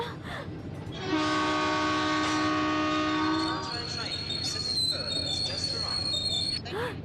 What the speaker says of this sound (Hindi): ट्रेन वापस जाने लगती है